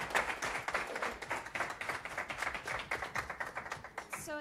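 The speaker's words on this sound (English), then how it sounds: "Applause for Alex McPherson." Scattered clapping from a small audience at a talk event, a few seconds of uneven claps at moderate level that stop abruptly at the end.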